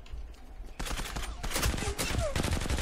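Rapid bursts of gunfire in the online shooter Zula, dense repeated shots starting after a quiet moment and continuing loudly, with brief whistling ricochet-like tones between volleys.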